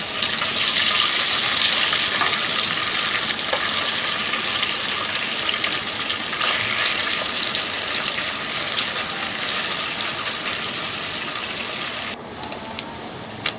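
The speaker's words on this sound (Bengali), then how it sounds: "আবারও আমি বাকি মাছটা একইভাবে ভেজে নেব।" Moya fish frying in hot oil in a pan, a steady loud sizzle and crackle running continuously near the microphone, easing slightly toward the end.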